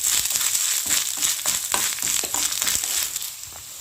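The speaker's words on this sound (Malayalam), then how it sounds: "ഇതിൻ്റെ കൂടെ ഒരു ടേബിൾ സ്പൂൺ തേങ്ങ ചിറകിയതും കൂടെ നമുക്ക് ഇട്ട് കൊടുക്കാവേ എല്ലാം കൂടെ നമുക്ക് നന്നായിട്ടൊന്ന് ഒപ്പിച്ചെടുക്കാം" Grated coconut being stirred into a jackfruit curry (chakka erissery) in a pan, with a continuous close sizzle and repeated soft scraping of the spoon, and no talk.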